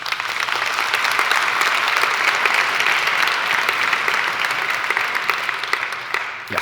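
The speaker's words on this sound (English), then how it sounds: "I think that's worth an applause," Audience applause fills a tech conference hall during a talk on Compose Multiplatform for iOS, a steady dense clapping that holds for several seconds before tapering off slightly at the end.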